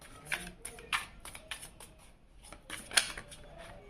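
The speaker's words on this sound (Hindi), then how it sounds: "कार्ड शफल ही नहीं हो पा रहे हैं।" Tarot cards being shuffled by hand: several short, soft riffling and slapping bursts at close range, fairly quiet, with no talking.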